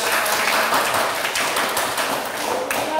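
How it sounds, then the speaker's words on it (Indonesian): Classroom applause during a lesson, a steady wash of many hands clapping together at close range for about three seconds with no talking over it. "Tepuk tangan."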